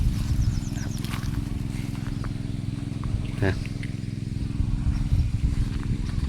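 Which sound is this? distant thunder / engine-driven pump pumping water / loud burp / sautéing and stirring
engine-driven pump pumping water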